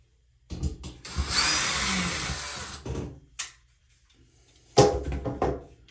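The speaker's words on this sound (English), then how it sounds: "then we'll drill for our bolts" Short bursts of a power drill whirring at close range, drilling bolt holes with a 1/2 inch bit, one long run of about two seconds followed by a couple of brief spurts.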